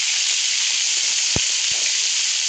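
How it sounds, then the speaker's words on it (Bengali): Slices of pointed gourd seasoned with salt and turmeric fry in hot oil, giving a steady, even sizzle with a few soft pops and no talking. "দিয়ে পটলগুলো আমি ভাজতে ভালো করে।"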